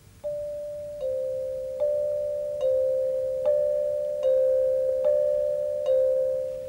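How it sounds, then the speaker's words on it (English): A hand chime rings a single clear tone struck at a steady, even pulse, eight strokes, each ringing on and fading slightly before the next. "playing the regular beat on the hand chimes"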